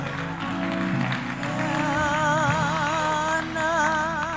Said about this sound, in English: Come on, a clap offering for Pastor Mark as he comes.